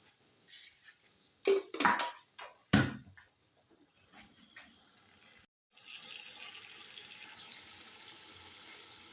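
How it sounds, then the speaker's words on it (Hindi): Water is poured from a tap or vessel into a pan of frying spices for biryani, a few clattering knocks followed by a steady soft hiss and sizzle, close and moderately quiet with no talking. "थोड़ा सा पानी डालती हूँ ताकि ये मसाले जले नहीं।"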